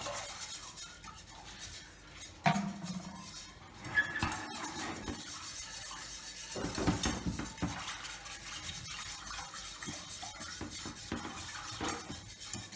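A spoon or whisk works through béchamel sauce in a pot, quiet scraping and squeaking strokes against the pan with occasional louder knocks, continuous and fairly faint.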